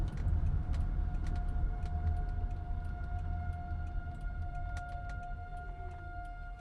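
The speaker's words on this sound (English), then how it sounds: "The warnings. Or the sirens going off." Tornado warning sirens wail as steady, sustained tones from a distance, heard from a storm chasers' vehicle beneath heavy rumbling road and wind noise.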